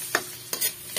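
Garlic and onion are stirred in a hot pan with oil while cooking a pork vegetable sauté, giving soft sizzling with three sharp scraping strokes of a spatula spaced about half a second apart.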